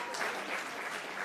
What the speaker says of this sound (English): You clap it up for the Urban League